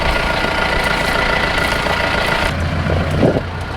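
A Mahindra Roxor's engine runs steadily nearby at a low idle-like putter, a continuous rumble throughout, with a slight change in tone partway through and a brief louder bump near the end.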